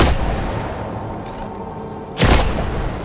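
Gunfire in Destiny 2: Beyond Light from a hostile sniper rifle, a dense rumbling barrage of shots with one loud, sharp crack near the end.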